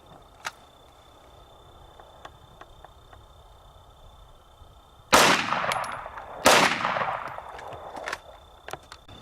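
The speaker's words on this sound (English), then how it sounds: "I'm going to fire 2 rounds from a standard Glock 17 9mm slightly below the double-aught buck shot" Two loud, sharp 9mm shots from a standard Glock 17 pistol, about a second and a half apart, each ringing out with a brief tail at an outdoor shooting test.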